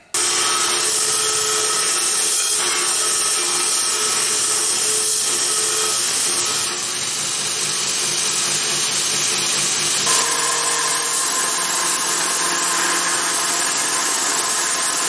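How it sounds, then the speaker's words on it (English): Power tools drill holes in and cut out homemade parts for a beam engine build, making a loud, continuous buzzing and grinding close by, with a short dip and a change in tone midway and no talk. "So drill the holes, put these parts together and cut it out."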